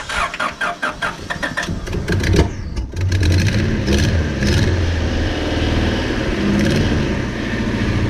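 A Honda Civic that sat untouched for eight years, jump-started from a box: a few rapid starter cranks, a brief pause, then the engine catches and settles into a loud, steady idle with slight revving.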